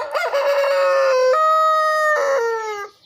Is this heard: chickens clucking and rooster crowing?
yes